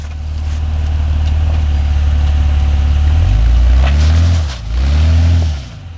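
A Jeep WJ engine idles loudly off-road at Badlands Offroad, then revs up twice in rising-and-falling surges as the vehicle backs up.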